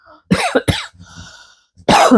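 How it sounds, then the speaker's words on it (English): A person coughs up close in a few harsh, loud bursts, with a brief raspy throat sound in between and a final strong cough. "now I'm coughing"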